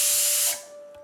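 A pressure cooker of millet cooking on a medium flame lets out a loud, steady hissing whistle of escaping steam, then cuts off abruptly and leaves a faint tone behind.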